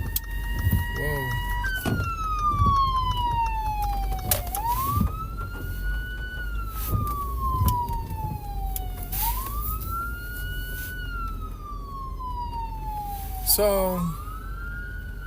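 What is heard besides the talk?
ambulance siren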